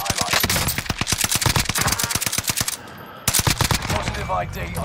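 Rapid automatic gunfire in a video game rattles in dense, loud bursts, with a brief lull before more shots resume, close and dominating the mix.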